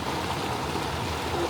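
Floodwater runs steadily through a swamp near a water-level gauge, a continuous close rushing trickle with no voices over it.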